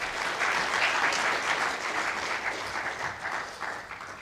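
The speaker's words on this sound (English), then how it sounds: "Let's give Joe a round of applause." An audience at a church sermon applauds, dense steady clapping that is loud and close at first, then gradually thins and fades over a few seconds.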